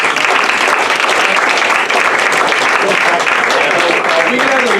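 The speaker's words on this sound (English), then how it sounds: "give a round of applause" Dense, steady applause from an audience honoring award recipients at a special action meeting, continuous and fairly loud for the whole stretch.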